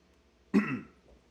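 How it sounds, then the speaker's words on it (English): A single short throat-clearing cough from a man, close and sudden, rasping for a moment before trailing off into quiet room tone. "little residual cough there. I apologize."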